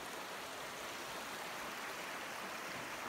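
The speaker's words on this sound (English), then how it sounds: "But this is Junction Creek right here." Junction Creek on the Colorado Trail in dense woods, its water rushing steadily under a bridge as a constant, even broadband wash with no breaks or voices.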